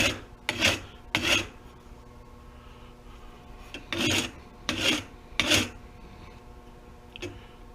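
A metal file rasps across the latch of a Bridger #2 trap to remove a burr, several short scraping strokes in uneven pairs, close and loud with pauses between.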